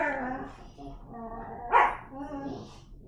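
Puppies barking while they play, a few short, high yips and barks off-mic, one louder bark standing out, all heard under ongoing speech.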